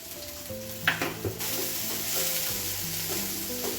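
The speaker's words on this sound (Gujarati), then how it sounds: "મરચાં થોડા નરમ થઈ જાય અને લીલું લસણ છે તે થોડું નરમ થઈ જાય ત્યાં સુધી સાતળીશું" Green chillies and green garlic sauté in a hot pan with oil, giving a steady close sizzle and fry with occasional stirring clinks and scrapes of a spoon, no voices.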